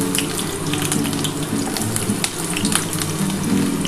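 Ginger, garlic and onion frying in hot oil for a dhaba-style chicken bharta, a steady loud sizzle with crackling spits throughout, close and continuous.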